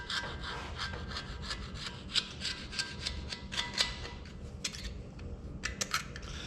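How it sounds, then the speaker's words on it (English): Scraping and rubbing at the rusty counter bores of an Oliver 1855 tractor engine block, a steady stream of short gritty strokes with sharper scratchy bursts, close and fairly quiet, no talking. "You want to be careful about cleaning these counter bores out."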